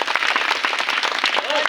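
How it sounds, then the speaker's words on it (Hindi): A crowd claps rapidly and unevenly at a village street show put on by a madari performer, with loud voices talking over the clapping throughout. "ताली मारो ताली मारो ताली मारो।"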